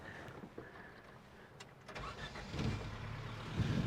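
Engine of a 1973 Toyota Hilux being started: a faint crank builds into a low rumbling catch near the end, heard close and without talk.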